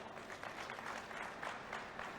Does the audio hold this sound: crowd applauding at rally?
yes